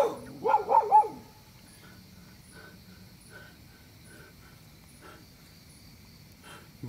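A dog gives a short burst of several yelping barks at night, fairly close, then stops, leaving faint crickets and quiet night ambience.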